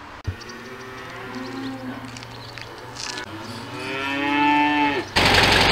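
Cows on a farm in a Silesian village moo in long, drawn-out calls close by, one after another, followed by a sudden burst of noise at the end.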